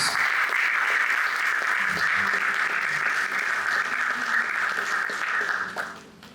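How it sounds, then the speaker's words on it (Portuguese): A church congregation applauds loudly and continuously, a dense roomful of clapping that fades out near the end. "Aplauda o nome de Jesus"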